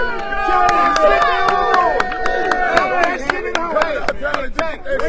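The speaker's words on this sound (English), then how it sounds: "So you hear the crowd going crazy here" A crowd at a championship game cheers and claps, dense rhythmic clapping and sharp hits over loud excited voices, people talking close by.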